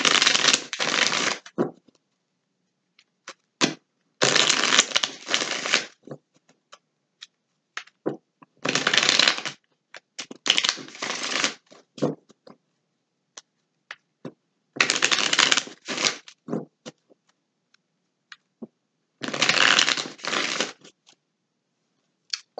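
Tarot cards riffled and shuffled by hand in close, crisp bursts, several separate rounds of flapping shuffles with quiet pauses between them.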